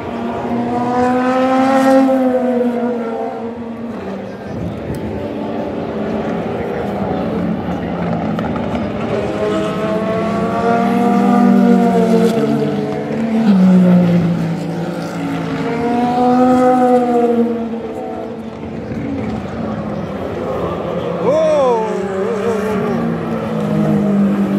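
A Porsche race car at Le Mans 24 Hours practice, with engines droning and rising past at a distance and gear-shift pitch sweeps, heard over crowd ambience and some faint talk.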